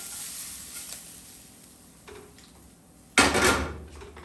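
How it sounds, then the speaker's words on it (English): Shrimp tipped into a hot pan on a home stove, a sudden loud burst of sizzling and clatter that rises abruptly and then trails off, following a quieter stretch of faint kitchen handling. "We're going to dump the shrimp in"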